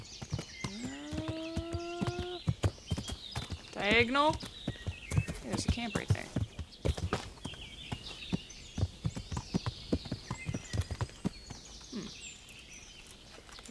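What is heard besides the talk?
horse hooves clip-clop while riding in video game Kingdom Come: Deliverance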